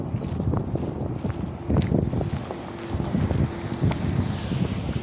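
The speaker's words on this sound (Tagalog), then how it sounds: "Grabe kahangin. Mahangin ngayon kasi baka mag-ano ng buhangin." Strong outdoor wind buffets the microphone in a sandy, breezy spot, with heavy low rumbling gusts that rise and fall continuously over faint background activity.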